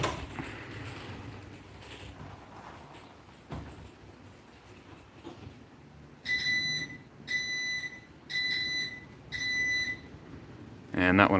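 Four evenly spaced bursts of high electronic beeping from a garage door opener during a force test, loud and close, following quieter mechanical rumbling and handling noise.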